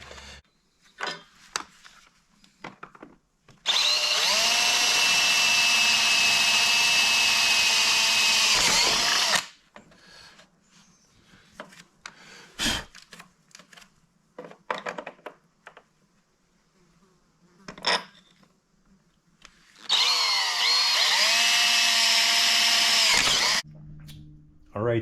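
A power drill tightens U-bolts that clamp an axle onto a pallet-based e-bike railroad cart. Two long, loud whirring bursts are separated by quieter clatter and handling noises.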